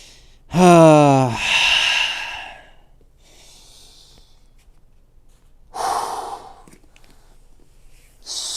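During a deep yoga twist, a voiced sigh slides into a long, loud breathy exhale, followed after a quiet pause by a second shorter breath out.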